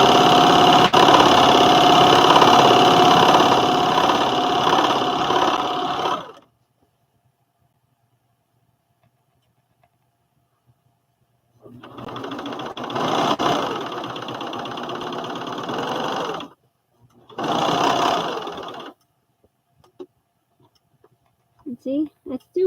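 A sewing machine stitches the inseam of McCall's 7464 overalls, running in bursts of rapid mechanical clatter with pauses of silence between, the first run longest, followed by shorter spurts and faint clicks.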